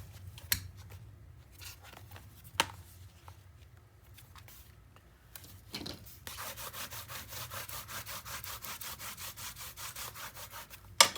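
Paper is burnished by hand onto an 8x8 mini album page, first a few soft taps and presses, then several seconds of rapid, rhythmic scratchy rubbing up close.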